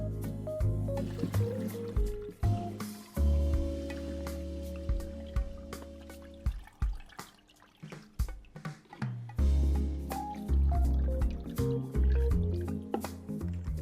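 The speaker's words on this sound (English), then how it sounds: "let's crack on and start adding some water in" Water poured into a beginner's nano aquascape aquarium, splashing and gurgling in uneven pours with short pauses between.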